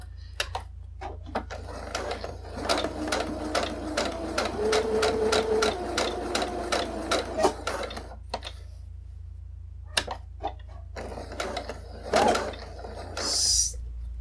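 A sewing machine stitches fabric for a cosplay harness, running in a fast even rattle for several seconds, then pausing and giving a few short bursts, close and clear.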